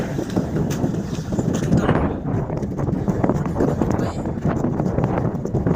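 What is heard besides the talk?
strong wind at sea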